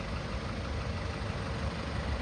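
A 2008 Ford Escape engine running at idle, a steady low rumble that stays close and even throughout, with no voices.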